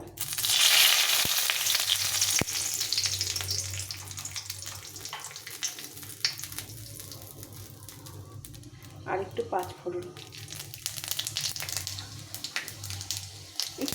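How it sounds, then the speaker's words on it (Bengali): A dried red chili and two bay leaves sizzle and crackle in hot mustard oil, giving a steady close frying hiss with faint clinks from the pan. "সর্ষের তেল তো এখানে আমি একটা শুকনো লঙ্কা দিয়ে দেবো দুটো তেজপাতা"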